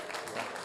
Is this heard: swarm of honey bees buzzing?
no